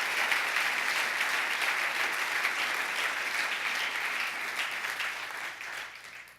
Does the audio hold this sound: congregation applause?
yes